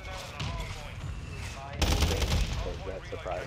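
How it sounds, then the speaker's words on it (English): Mortar strike explosions and gunfire land on a capture point in a multiplayer shooter video game, a loud burst of blasts and rapid shots swelling midway over continuous chatter and background battle noise. "they put a mortar strike down on the point"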